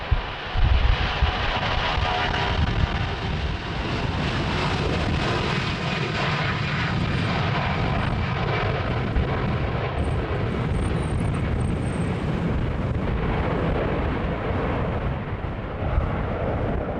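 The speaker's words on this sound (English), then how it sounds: "as the 737 I mentioned was coming this way, I thought maybe it was going to take off before all the other planes" A jet airliner takes off from runway 36L at Amsterdam Schiphol Airport on a windy day, its engines a loud, continuous broadband roar that holds steady throughout, with wind buffeting the microphone at the start.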